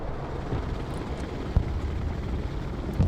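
A Chinook helicopter in a video game gives a steady, loud rotor roar and engine drone throughout, with a couple of brief low thumps and no talking.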